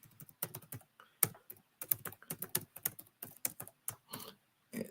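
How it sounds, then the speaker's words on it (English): Quick, irregular clicks of typing on a computer keyboard, close and fairly quiet, come in bursts of keystrokes with brief pauses and no talking. "I'm typing."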